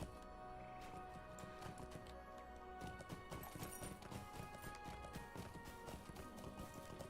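A horse's hooves clop in a steady rhythm while riding through King's Gondor in the online game The Lord of the Rings Online, quiet and continuous amid faint game ambience.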